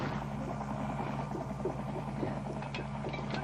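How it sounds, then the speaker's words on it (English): A Soviet Mi-24 helicopter gunship drones with a steady, low rotor and engine rumble, continuous and moderately distant with no voices. "The most potent Soviet weapon, however, has been the Mi-24 helicopter gunship"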